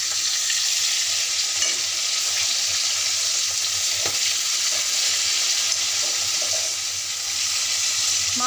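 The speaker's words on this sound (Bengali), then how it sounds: "আবার মাছগুলোকে আমি উল্টে দেবো।" Flipped rohu fish pieces keep frying in hot oil, producing a strong, continuous close-up sizzle with a faint clink partway through.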